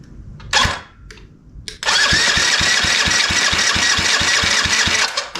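A small motor with the throttle open coughs through a couple of short turnover attempts, then catches and runs loud and steady with a rapid regular firing beat.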